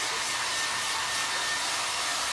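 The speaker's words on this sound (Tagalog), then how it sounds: "So ibu-blower na po sila." A blow dryer runs steadily and loudly while puppies are dried after a bath, a constant close airy roar with no breaks and no talking.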